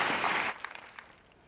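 A brief, dense burst of audience applause that cuts off abruptly, leaving a few trailing isolated claps fading into quiet.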